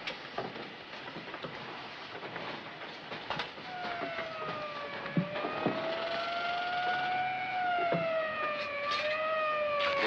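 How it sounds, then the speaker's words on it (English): An ambulance siren wails in a 1944 film noir, its rising and falling tone growing louder as it approaches over rumbling street or rail noise and scattered clatter. "There's an ambulance coming"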